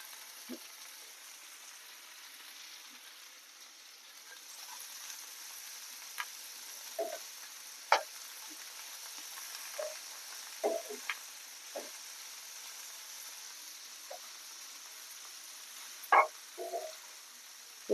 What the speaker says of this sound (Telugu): బీరకాయ పొట్టు కొంచెం ఫ్రై కావాలి